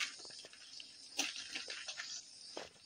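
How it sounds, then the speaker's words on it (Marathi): Water poured out of a lidded container, a faint, close splashing trickle with a few brief gushes, fairly quiet overall. "झाकण लावून ओतून टाक पाणी"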